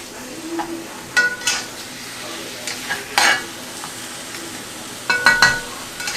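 Sausage gravy is stirred in a cast iron pan with plastic silverware while it sizzles steadily underneath, with intermittent scraping and light clicks of the utensil against the pan.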